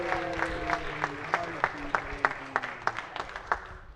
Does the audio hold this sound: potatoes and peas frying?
no